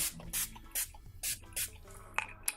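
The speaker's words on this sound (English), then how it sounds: "this is a hydration spray, and I'm just gonna spray" A hydration facial spray misted onto the face during a makeup routine, heard as four or five short, soft hissing bursts with brief pauses between them. The sprays are quiet and close, and no one speaks.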